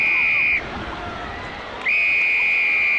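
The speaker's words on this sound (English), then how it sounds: "This won't be a try as the whistle goes." Referee's whistle at a schools rugby semi-final, two loud sustained blasts separated by a short gap, over crowd murmur and outdoor background noise.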